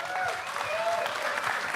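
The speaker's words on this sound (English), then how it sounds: "Let's give Sandy a round of applause" A short stretch of steady clapping from an audience applauding a speaker, dense and continuous throughout.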